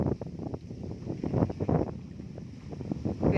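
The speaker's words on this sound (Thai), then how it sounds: "โอ้ยลมพัดขนาด" Strong wind buffets a microphone outdoors on a mountain, gusting in uneven rumbling surges that rise and fall throughout, loud and close with no voices.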